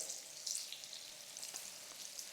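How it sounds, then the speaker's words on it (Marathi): Paneer frying in hot oil over medium heat, a steady soft sizzle with crackling pops close up, no voices. "मीडियम गॅसवरती हे पनीर सगळ्या बाजून मस्त असे फ्राय करून घ्यायचे आहे"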